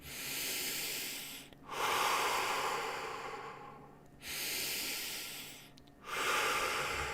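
Long, airy breaths pushed out through the mouth, close to the microphone, coming in about three slow waves separated by short pauses, with no talking.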